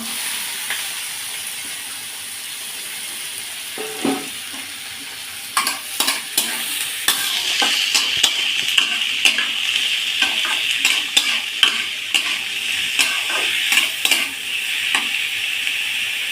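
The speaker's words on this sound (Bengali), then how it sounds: "জিরাটা বেশ ভালো করে ভাজা হয়ে গেছে এবার আমি ছিচন্দনটা এর ভেতরে দিয়ে দেব" Oil sizzles steadily in a pan while a spoon scrapes and stirs hilsa fish paste with mustard in quick, repeated strokes, growing busier toward the end; nobody speaks.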